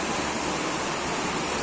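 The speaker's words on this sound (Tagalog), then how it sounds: "nagbabagsakan na yung tubig sa gilid" Water overflowing and splashing off the flat bar ring of a used oil stove, a dense, steady hiss and patter like a small waterfall, loud and continuous for the whole moment.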